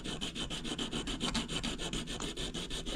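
Rhythmic rasping strokes of sanding an RC propeller, back and forth about six times a second, close and steady with no talking.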